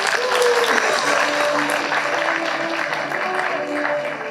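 Sustained audience clapping at an LTIPS Pune and LTIP Kharghar alumni meet, a thick continuous wash of applause with faint voices mixed in, holding steady and tapering slightly toward the end.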